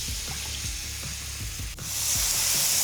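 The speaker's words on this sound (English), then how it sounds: "It's already starting to get a little bit golden, so now is time to add our mixed up sauce." Stir-fry sauce poured into a pan of chilies fried golden: a steady close sizzle with faint rhythmic stirring knocks, then a sharp tick and a louder, fuller hiss as the sauce hits the hot pan.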